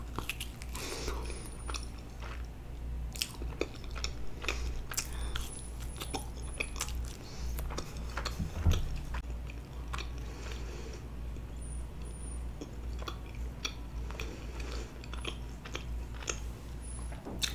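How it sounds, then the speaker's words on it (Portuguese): Chewing and biting on coxinha and assorted Brazilian party snacks in a mukbang, with steady close-up crunchy mastication repeating throughout over a low constant background hum, no talking. "Esqueci de desligar, tava mastigando com ela ligada."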